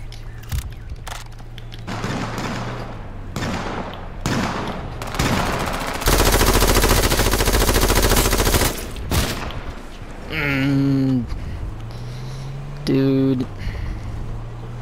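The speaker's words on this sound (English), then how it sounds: "I'm actually so bad with the chain gun, it's ridiculous." A chain gun firing in a video game: a loud, sustained burst of rapid fire lasting a few seconds, set among scattered single shots and thuds, with a voice talking at points.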